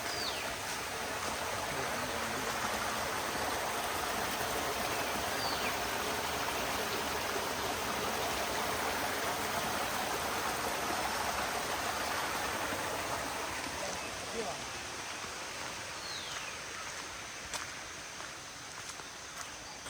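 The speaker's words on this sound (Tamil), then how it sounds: "இந்த ஓடை சத்தம் கேட்குது தானே" A village stream in Sri Lanka flows in a steady, close broadband rush of water that continues without pause, with a few faint clicks over it.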